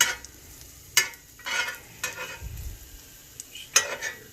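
Chopped cheesesteak filling for stuffed bell peppers sizzles quietly in a frying pan, with a soft frying hiss broken by several sharp clinks and scrapes of a utensil stirring, no talking.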